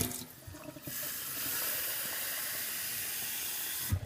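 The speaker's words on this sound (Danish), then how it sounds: "Så hælder vi lige det helt vildt gamle vand ud. Så noget dejligt frisk nyt i." Fresh tap water pouring into a kettle, a steady close rushing hiss that starts after a short burst of splashing and runs evenly to the end, with a brief clatter at the close and no talking.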